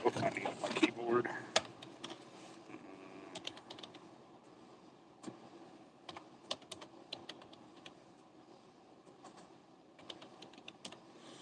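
Computer keyboard typing, a scatter of quick irregular key clicks at moderate level, with a louder burst of voice and noise at the very start and occasional sharper taps throughout.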